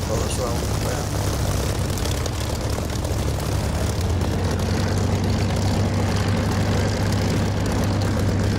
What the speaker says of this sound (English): I do love to see the Spitfires rolling around.